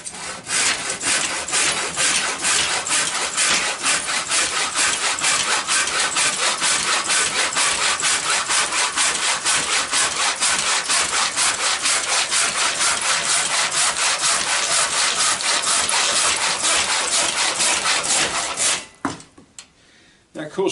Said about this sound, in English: Now they could come and stay with me and they could cut firewood, wouldn't need to go to the gym.